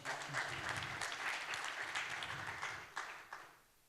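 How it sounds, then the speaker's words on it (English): Audience applause greets two market veterans on a conference panel, a dense, fairly soft wash of clapping that holds steady, then breaks into a few last claps and dies away. "A big round of applause for them, please."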